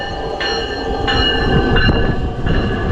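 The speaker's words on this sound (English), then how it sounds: "Electric mainline train number 820 to Millennium Station is now arriving." An electric mainline train rumbles steadily close by as it arrives at a Chicago station, with a broad mechanical roar and repeated tonal whines rising and falling every half second or so; no voices.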